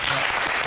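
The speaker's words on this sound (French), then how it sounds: "j'aimerais d'abord qu'on acclame Madame Yvidéo" Studio audience on a French-language talk show applauding in a short, dense burst of clapping that fills the whole moment.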